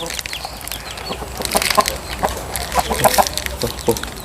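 Chickens cluck close by in a rural yard, loud, overlapping chatter with scattered sharper calls rising over a busy background.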